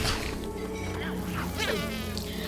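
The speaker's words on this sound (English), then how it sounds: "Oh no, no, not the bees! No, not the bees! Anything but the bees!" A swarm of bees buzzes in the LEGO Harry Potter video game, a continuous wavering drone with individual buzzes rising and passing close, and no speech.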